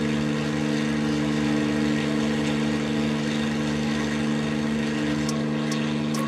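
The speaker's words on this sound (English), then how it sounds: "the engine sounds cool from here." A P-51A Mustang's piston engine drones steadily and loudly, a constant low rumbling hum with no change in pitch.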